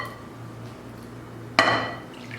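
Mocha cake batter being mixed in a bowl: a low, steady kitchen hum, then one sharp clink of a utensil against the bowl that rings briefly and fades.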